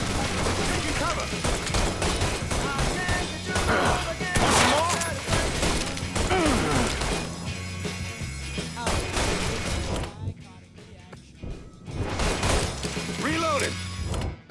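Gunfire in a firefight from Mafia III: Definitive Edition on PS5, bursts of shots and mechanical weapon clatter over a busy soundtrack, with brief shouted voices in the mix.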